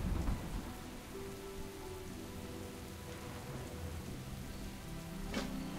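Rain falls steadily in a World of Warcraft thunderstorm, a dense hiss on surfaces with a low rumble of thunder underneath and a sharper crack near the end.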